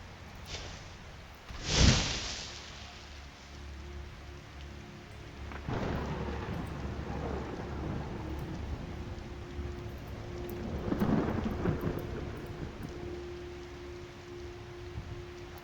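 Thunderstorm in the video game Skyrim: one loud, close thunderclap near the start, then steady rain with further softer rumbles rolling in later, and no voices.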